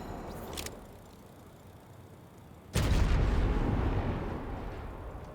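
Gunfire in the battle royale video game Apex Legends: a short burst early on, then a heavy, loud blast of shots that rings on with a dense, sustained rumble.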